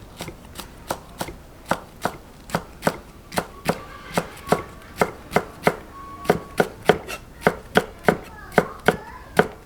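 A knife chops ingredients on a cutting board in a home kitchen while beef and onion are prepped for a beef rice bowl, with about thirty crisp, evenly spaced strokes, close and clear, with no voices.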